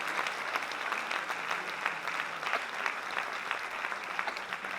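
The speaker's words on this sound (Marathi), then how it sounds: "जोरदार टाळ्या हरीशजींसाठी आपण वाजवल्या पाहिजे" Steady, dense applause from a hall audience at a book launch event, welcoming Harish Bhimani onto the stage, sustained evenly throughout with no talk over it.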